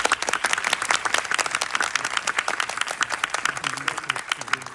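Cinema audience applauding at a film screening Q&A with the director, many hands clapping loudly and rapidly close by, with a few faint voices mixed into the steady clatter.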